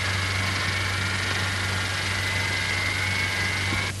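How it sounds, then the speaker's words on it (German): The control-system gyroscopes of a German V1 flying bomb spin up, giving a steady, loud mechanical hum with a sustained whining tone and a low drone underneath, then stopping abruptly at the end. "Die Kreisel der Steuerung laufen an, schneller, immer schneller."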